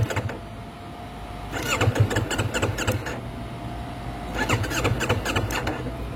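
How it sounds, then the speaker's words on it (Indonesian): Yamaha MT25 motorcycle with an empty fuel tank, its electric starter cranking in two separate whirring bursts of about a second and a half each without the engine catching, close by over steady background hum. "Coba di starter masih bisa nyala nggak ya?"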